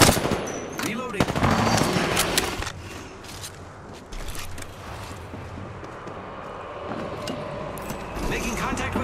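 Video game gunfire in rapid machine-gun bursts, with mechanical clacks and reload sounds between volleys and game voices speaking over the battle.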